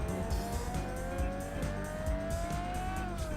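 A custom-built Italian-style race car in a driving game spins out, tires squealing in a long rising whine over a rough, pulsing engine drone, steady and close with no voices.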